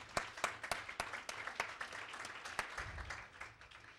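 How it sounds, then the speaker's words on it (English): Modest audience applause at a poetry reading, with distinct individual claps standing out sharply over a softer background patter, fairly quiet and irregular in rhythm. "So let's give Charlene a round of applause."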